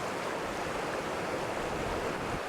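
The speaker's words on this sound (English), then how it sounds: "numerous streams and rivers of fresh water plunge over the escarpment with violent force" Fresh-water streams plunge over an escarpment near Lake Natron by Ol Doinyo Lengai volcano, making a steady, dense rushing roar of falling water with no breaks.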